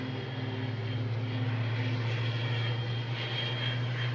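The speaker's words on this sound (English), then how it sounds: "This is in from Paris, A320 Neo." An Airbus A320neo airliner in from Paris roars steadily at Boston Logan airport, a constant, fairly loud engine drone with a low hum and broad whine, with no voices.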